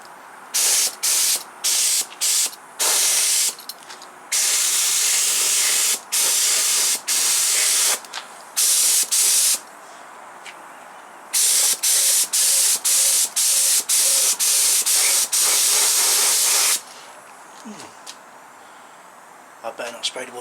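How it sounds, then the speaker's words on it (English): A cheap spray gun spraying enamel paint, with repeated loud hissing bursts of varying length, some short and rapid and some sustained for over a second, close up with quiet gaps between them. "I better not spray towards the camera"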